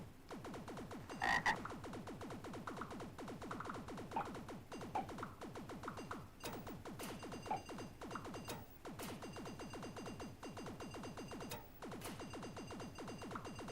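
A dense chorus of frogs in an Evercade video game croaks steadily and continuously, many overlapping calls at an even level, with faint sharp game clicks here and there.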